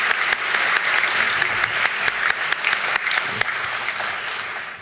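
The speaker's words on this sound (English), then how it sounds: "Let's give them a round of applause." A crowd at a Falmouth graduation ceremony applauds in a steady, dense wash of clapping, with a few sharp individual claps standing out near the front before it begins to taper off.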